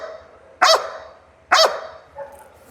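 Police explosives detection dog giving two sharp, loud barks close by, evenly spaced, followed by a softer third yip, with no talking.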